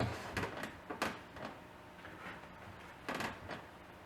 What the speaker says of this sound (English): you can just close the door here